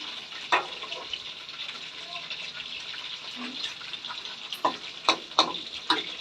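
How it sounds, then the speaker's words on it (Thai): Battered crispy pork deep-fries in hot oil with a constant bright sizzle, broken by a few sharp splashes and clatters near the end, and some quiet background sound. "ทอดไปยาวไปยาวไปจนกว่าจะเสร็จนะคะ"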